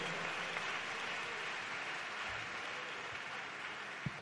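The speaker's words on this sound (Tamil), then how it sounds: "கைதட்டுங்க பார்க்கலாம், நல்ல கைதட்டி கர்த்தரை மகிமைப்படுத்து." A church congregation claps steadily during a Tamil Christian sermon, a dense, even wash of applause at a moderate distance that holds for the whole stretch without a break.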